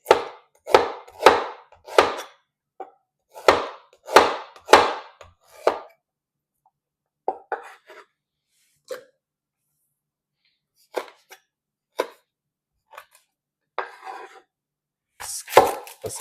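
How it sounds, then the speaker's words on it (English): A knife chops ginger on a wooden board in crisp, close strokes, coming in quick bursts of several cuts and then slowing to scattered single chops with pauses in between. "Cut the ginger."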